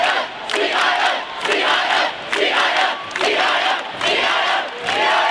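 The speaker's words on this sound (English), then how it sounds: "Just listen to what the crowd had to chant afterwards." A large crowd at a basketball game chants loudly in a rhythmic repeated pattern after a game-winning shot, the voices dense and roaring in steady waves with no other speech.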